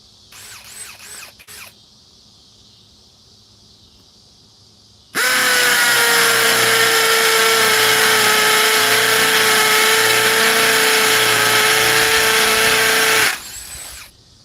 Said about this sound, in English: Hammer mode, speed 2.